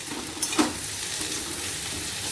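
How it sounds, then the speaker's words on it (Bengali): Air-fried okra tossed with potatoes in a pan, giving a brief scrape of stirring at the start over a steady, soft sizzle that runs throughout. "দিয়ে দিচ্ছি আলুর সঙ্গে একটু নেড়ে নেবো আলুর সঙ্গে"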